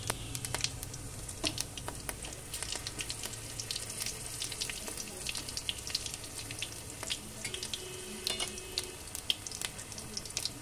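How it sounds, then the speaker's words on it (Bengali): Green chillies and whole cumin seeds hitting hot oil in a pan, giving a busy crackling sizzle with frequent sharp pops and spatters, moderately close and steady throughout without any voices. "প্রথমে আমি কাঁচা লঙ্কা আর গোটা জিরে এর ওপর দিয়ে দিলাম তেলের ওপর।"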